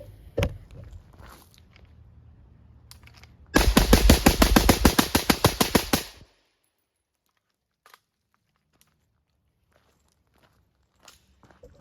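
Rapid string of .22 rifle shots fired at targets, about a dozen sharp cracks in quick succession over a few seconds, loud and close, followed by quiet with faint handling clicks.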